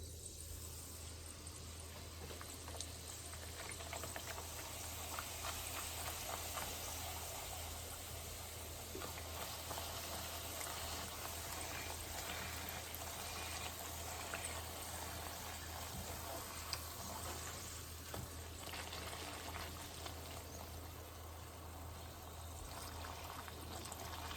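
Daal pakvan dough frying in hot oil, a steady soft sizzle and bubbling that runs on evenly throughout, faint and close, with no talk.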